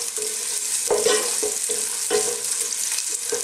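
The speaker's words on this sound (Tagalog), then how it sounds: "Gigisa lang po tayo." Ginger and garlic sautéing in hot oil in a cooking pot, a steady close sizzle with a few stirring scrapes of a utensil against the pot.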